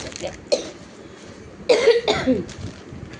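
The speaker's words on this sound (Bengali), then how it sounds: "তোমরাই বলো এরকম কাশি কারো ভালো লাগে?" A woman coughs several times in a home kitchen, a short cough first, then two harsher, louder bursts in quick succession, close by in a quiet room.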